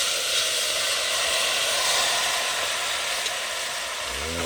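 Curry goat sizzles in a pot over an outdoor wood fire, a steady broad hiss and crackle that stays loud and close without pause.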